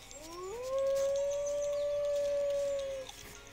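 Wolves howl in the Roblox game Shard Seekers: one long, loud howl rises at the start, then holds a steady pitch for about two and a half seconds before breaking off, with nothing else heard.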